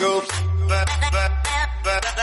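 A Christmas DJ mix jingle effect: short, bright tonal bursts over a deep sustained bass. It is loud and lasts about two seconds, with no voice.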